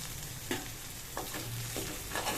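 Boiled goat suvarotti stirred with tomato in a pan, a quiet continuous sizzle broken by three or four soft scraping strokes of the spoon.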